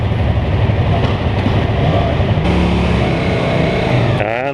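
A 2015 Yamaha R3 motorcycle idles in neutral, a steady, loud, close engine drone that holds even throughout and shifts pitch slightly near the end.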